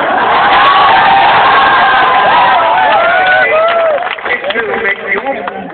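A large audience at a college event claps and cheers loudly and continuously, with whoops and shouts over dense applause that thins out toward the end.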